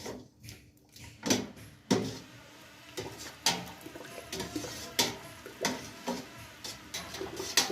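Soto soup broth being stirred after spoonfuls of seasoning go in, a series of close knocking and scraping spoon strokes against the pot in an irregular rhythm, heard alone without talk.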